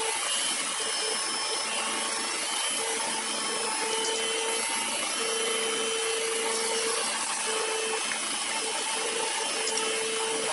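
Electric mixer beating sugar cookie dough as large eggs are worked in, a continuous loud whirring grind with a faint repeating mechanical tone throughout.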